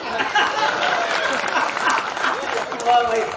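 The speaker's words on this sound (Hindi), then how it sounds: "तालियां हो जाएगा।" Audience applause at a Hindi comedy show, a steady wash of clapping with a murmuring crowd and voices mixed in throughout.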